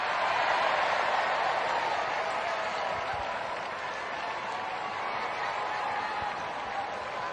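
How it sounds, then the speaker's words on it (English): A large crowd at a women's T20 World Cup cricket match between New Zealand and South Africa cheers and applauds, a broad, steady roar with no break, filling the whole stretch at a moderate distance. "Crowd's getting into it."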